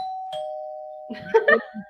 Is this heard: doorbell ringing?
yes